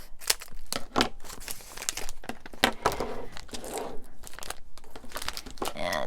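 Plastic packaging around coloring supplies and illustration markers is cut open, giving a run of close, irregular crinkles, snips and crackles with brief pauses between them.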